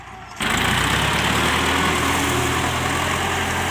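A heavy diesel Ford 7740 tractor engine, 105 horsepower, starts abruptly and runs loud and steady nearby, a constant low chugging drone.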